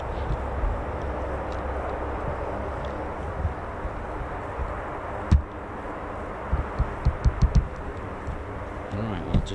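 A military aircraft taxiing at an air base, a broad steady engine roar held at middle distance, with a few short thumps and knocks near the end.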